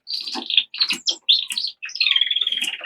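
A Border canary in an aviary sings bright, high chirps and rapid warbled trills in quick bursts, ending in a sustained trilling run, close and clear with no talking.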